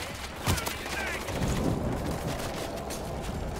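Sustained gunfire in the World War Z video game, a dense rattling barrage with a few sharper bangs, steady and somewhat distant throughout.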